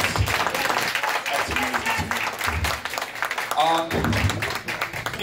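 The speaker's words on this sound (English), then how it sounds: "Can we give them all, please, a big round of applause?" Audience at a poetry slam awards event applauding the poets, dense clapping and crowd noise throughout with a voice speaking over it briefly near the end.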